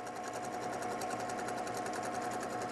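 A home sewing machine runs steadily during free motion quilting of a flying geese block, its motor giving a constant fast needle hum with a rapid even pulse, close and unbroken with no talk.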